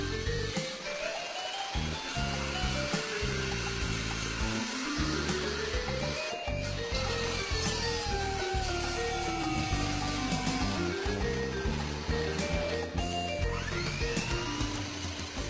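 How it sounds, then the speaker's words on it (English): A power saw fitted with a steel-cutting saw blade slices through metal. Its shrill, tonal motor whine keeps rising and falling in pitch as the blade bites and eases off, loud and continuous throughout. "Cutting with a steel cutting saw blade allows high-speed cutting not possible with a cut-off wheel."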